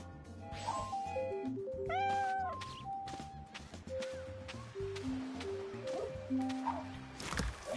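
A cartoonish cat meows several times in a Monopoly video game, with bright musical chime tones between the short rising and falling calls, fairly quiet and alone without talk.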